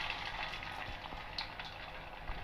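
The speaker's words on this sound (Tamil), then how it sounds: "வடை போட்டிருக்கேன். இப்போ இது வந்து நல்லா கொதிக்கணும், நல்லா வேகணும்." Steady hissing and crackling of aval vadai (flattened rice fritters) frying in hot oil, loud and close, with faint scattered pops throughout and no talking.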